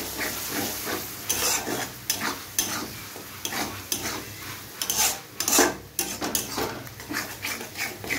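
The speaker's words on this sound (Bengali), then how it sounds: "বরবটিটা আমি পুরো সব দিয়ে দিয়েছি তেলে। এবার একটু নাড়িয়ে নিতে হবে।" Yardlong beans are stirred in frying oil in a pan, making repeated scraping strokes and metallic clinks over a steady sizzle, close and fairly loud with an uneven rhythm.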